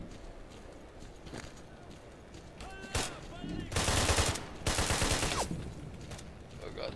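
Enemy gunfire in the S.T.A.L.K.E.R. Call of Chernobyl game: a short volley of sharp shots around three seconds, then two dense bursts of rapid fire that stand out loudly over a low, rumbling background.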